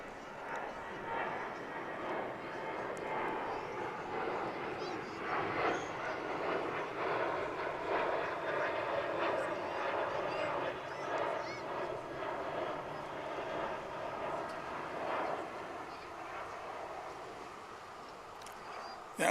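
An American Airlines Boeing 737-800 jet passes at a busy airport with a soft, sustained engine roar that swells and holds for several seconds before easing away, faint and broad.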